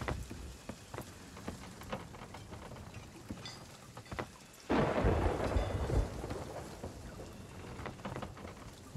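Rumbling thunder and steady rain in the video game Fate of the Damned, soft patter at first, then a loud thunderclap swells midway and rolls on under continuing rainfall.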